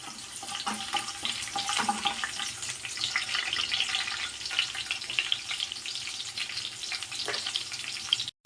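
Garlic and ginger fry in hot oil in a steady, close sizzling crackle that holds at even loudness throughout with no talking, then cuts off at the very end.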